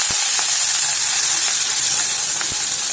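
Steady, loud sizzling hiss of spices, curry leaves and green chillies frying in hot oil, with a few faint clicks and taps underneath.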